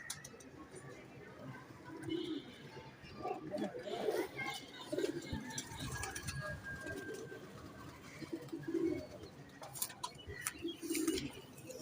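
Saharanpuri pigeons coo in repeated soft, throaty bursts close by, with people talking faintly in the background.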